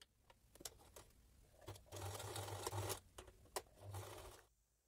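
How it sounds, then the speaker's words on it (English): A sewing machine stitches the side seams of a garment with elastic near the seam opening, running in several short bursts and one longer steady run, close and clear with no talking. "sew the side seams."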